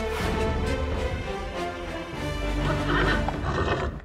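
Horses neigh and whinny loudly and continuously in a dense, layered din, with hoof clip-clop mixed in among the calls.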